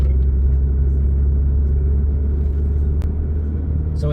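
A car drives along a road in Lower Sackville, Nova Scotia, gradually braking before a lane change; a loud, steady low engine and tyre rumble fills the cabin, with one brief tick partway through and no talk.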